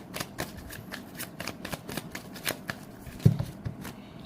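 Tarot cards are riffled and shuffled by hand in quick repeated bursts, a close crisp flutter with a soft tap partway through and no talking.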